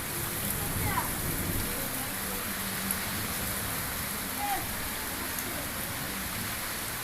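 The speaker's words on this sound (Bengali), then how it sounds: "এখনও বৃষ্টি হইতেছে অনেক ভালোই বৃষ্টি হইতেছে" Heavy rain falling steadily outside a window, a dense continuous hiss with faint distant thunder-like rumble underneath.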